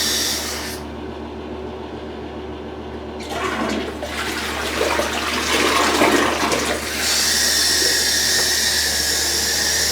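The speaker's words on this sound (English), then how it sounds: "We always make sure we get it 2 flushes." A toilet in a home bathroom flushes close by, a loud rushing gush of water that surges and then settles into a steady hissing refill, with no talking over it.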